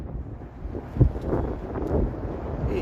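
Wind buffeting a microphone while walking north on University Avenue in downtown Toronto on a cold evening, a steady low rumble with gusts swelling around the one- and two-second marks.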